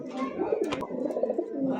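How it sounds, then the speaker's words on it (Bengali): A Bombay pigeon coos softly and low, a short rolling call close by, with a brief rustle of movement in the middle. "দেখতে পাচ্ছেন চমৎকার দেখার মতো একজোড়া বোম্বাই কবুতর"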